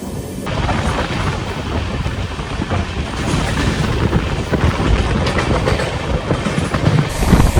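A decorated new Amritsar–Benares train rolls steadily along the rails, a loud, continuous close-up rumble with rhythmic clatter of wheels over track joints throughout.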